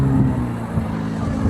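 A car on the road nearby gives off a steady low engine rumble that holds for the whole stretch, moderately loud, with no voices over it.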